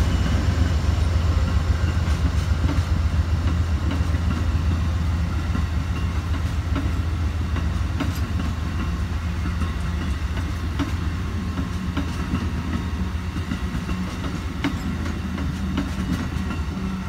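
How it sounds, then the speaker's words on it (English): Amtrak 56 Vermonter passenger train rolls past in the rain at Greenfield, Massachusetts, a steady deep rumble with rhythmic clickety-clack of wheels over rail joints, sustained and fairly close throughout. "Amtrak 56 Vermonter"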